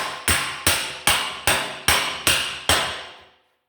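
A body slapper strikes a Fiat 500 N quarter panel held over a dolly, giving seven sharp, evenly spaced metallic smacks, each ringing briefly before the next, loud and close with no talking.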